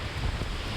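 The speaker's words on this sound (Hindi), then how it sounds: "ये बहुत तेज हवा है" Strong wind on a high mountain trail near Kinnaur Kailash buffets the microphone as a dense, low rumbling roar, loud and unbroken for a brief moment, with no voices.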